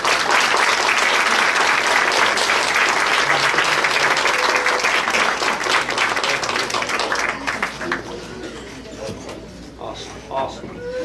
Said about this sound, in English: Another round of applause for these wonderful kids.